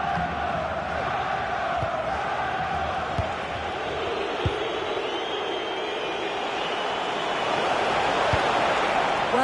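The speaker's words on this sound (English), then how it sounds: "Well, just listen to this crowd. They want a bit more." Football stadium crowd in the final minutes of a match, chasing an equaliser: a steady, loud roar of many voices sustained throughout, swelling slightly near the end, with a few sharp bursts above it.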